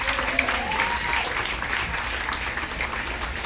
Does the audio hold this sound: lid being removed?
no